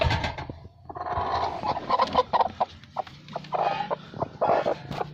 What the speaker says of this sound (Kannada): ಇವು ನಾಟಿ ಕೋಳಿ ಬಂದ್ಬಿಟ್ಟು 4 ಇದೆ